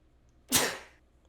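A single sharp sneeze bursts out close to the microphone in a quiet room, rising abruptly and trailing off within half a second.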